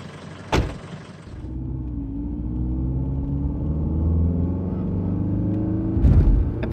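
Station wagon driving along a road: a steady, loud engine and cabin rumble that swells slightly as the car moves, bracketed by two sharp knocks like a door, with no talking.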